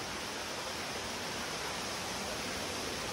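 The Kolam Darah Baru waterfall in Aceh Selatan, a steady, even roar of falling water filling the whole range without any change, constant and moderately distant, with no voices.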